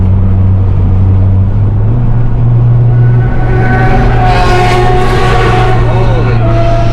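Acura TSX CL9 driving straight along a road, a steady low engine and road rumble filling the cabin throughout, with rising higher tonal hum and whoosh from traffic toward the end.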